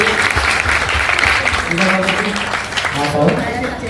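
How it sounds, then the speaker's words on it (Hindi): Audience at a devotional bhajan gathering clapping in a dense, continuous burst of applause, fairly loud and close, with some voices mixed in. "एक बार ताली बजाइए माता जी के लिए"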